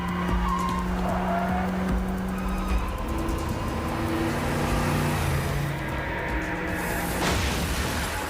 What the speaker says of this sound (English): So the car drives by so quickly that we can't ID the driver.